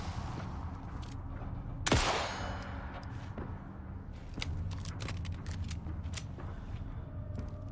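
Video game gunfire from Dragon Age: The Veilguard: one sharp, loud burst, followed by a spell of clicking and mechanical clatter and then a rapid flurry of lighter shots over a constant low game background.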